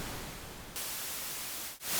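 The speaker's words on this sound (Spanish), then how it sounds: "Luego podemos cambiar el tipo de ruido a ruido blanco," Steady synthesized white noise generated in the Soundcool software: a dense, hissing broadband wash that shifts brighter about a third of the way in, then briefly dips before swelling again.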